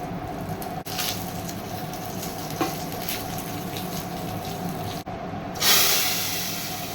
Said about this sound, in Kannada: ಒಣಮೆಣಸಿನ್ಕಾಯಿ 2 ಹಾಕ್ತಾ ಇದ್ದೀನಿ, ಬ್ಯಾಡಗಿ ಮೆಣಸಿನ್ಕಾಯಿ ಮತ್ತೆ ಕರಿಬೇವು, ಹಿಂಗೆ ಹಾಕ್ತಾ ಇದ್ದೀನಿ.